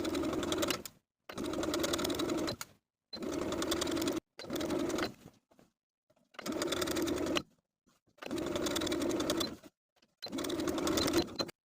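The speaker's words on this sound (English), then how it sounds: "we'll edge stitch it in place around both armholes" A sewing machine edge stitches bias binding around the armholes of a peplum top, running close and steady in six bursts of roughly a second each, separated by brief pauses of silence.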